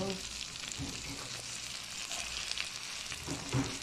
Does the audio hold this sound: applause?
no